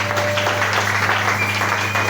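Congregation applauding at a pastor's ordination service, a steady, dense clatter of clapping hands that continues without pause over a constant low hum in the hall.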